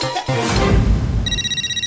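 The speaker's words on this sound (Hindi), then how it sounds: "मैं देखता हूँ किसका फोन है" A telephone rings loudly indoors, its electronic trill repeating in a steady pulsing pattern that starts after a brief musical sting and carries on alone.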